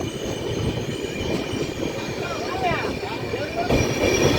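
A train rolls through a junction railway station at Arakkonam, a loud steady rumble of wheels with repeated metallic squeals from the rails, close by.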